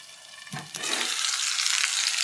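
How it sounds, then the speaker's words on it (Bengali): Raw green banana pieces hit a hot pan and break into a loud, steady sizzle that builds and keeps going, close by. "এই যে কাঁচা কলা ভাজাটা বসিয়ে দিলাম"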